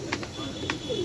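Soft pigeon coos drift from inside a cage through a close, cluttered background, with a brief high sliding call near the end.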